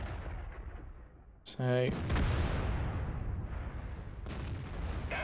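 An artillery shot in World of Tanks booms out loudly and abruptly, its rumble fading slowly under a brief spoken word.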